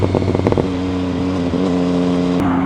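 An MV Agusta Brutale 800 motorcycle engine pulls hard under acceleration, a loud, close, smooth rising drone with steady harmonic tones and a brief shift in pitch near the end.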